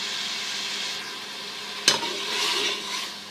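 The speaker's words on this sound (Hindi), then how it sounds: "इसको अच्छा सा हम भून लेंगे।" Ash gourd (petha) fries in ghee with a steady close sizzle, and a single sharp scrape of a spoon against the pan cuts through midway.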